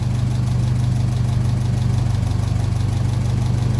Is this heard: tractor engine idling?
yes